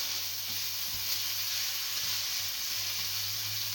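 Sofrito for pasta bolognese sizzles steadily in a pan while being stirred, a close, even frying hiss with faint scraping touches and no voices.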